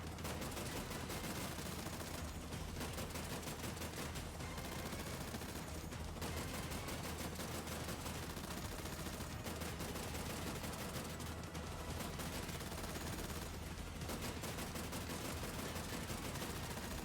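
Continuous automatic gunfire in the video game Terminator 2D: No Fate, a rapid, unbroken stream of shots with faint brief lulls, steady and fairly quiet throughout, with no talking.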